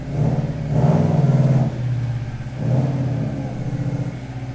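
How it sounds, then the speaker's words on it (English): A Subaru WRX with a failed clutch creeps up onto wooden 4x4 blocks in a garage. Its engine hums close by, rising in two slow surges with a steady low rumble between them. "she just drives up on them so we can get the jack underneath it"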